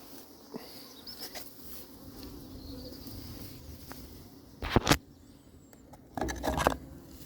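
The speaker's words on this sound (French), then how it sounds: "Je n'avais jamais vu autant d'abeilles serrées les unes contre les autres dans une ruche." Bees buzz in a crowded beehive at an apiary, a low steady hum with a few loud, close buzzing bursts as insects pass the microphone.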